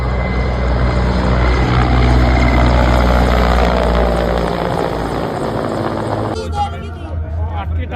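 A helicopter roars close and loud with steady rotor and turbine noise, heavily dominating a crowded outdoor scene, before the engine sound drops away suddenly near the end while people talk.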